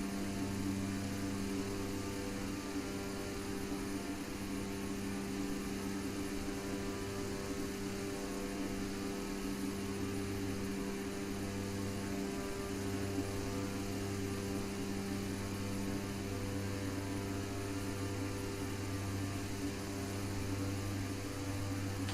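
An Embraer 120 turboprop cruising in Prepar3d gives a steady, droning engine and propeller hum with strong tonal bands, constant and moderate in level, running on its own without speech.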